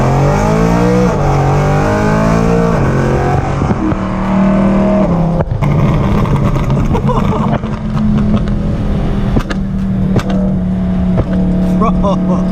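Loud BMW E92 M3 engine droning and revving continuously, with sharp crackling pops from the exhaust scattered throughout.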